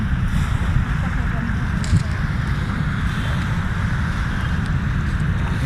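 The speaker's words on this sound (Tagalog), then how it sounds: "Napakalakas ng simoy ng hangin dito." Steady strong wind on Roxas Boulevard, Manila, buffets the microphone with a constant low roar and rushing noise throughout.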